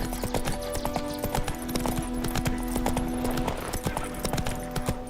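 Roach, Geralt's horse in The Witcher 3, clip-clops at a steady walking rhythm, hoofbeats close and distinct, with faint game ambience and tonal hum underneath.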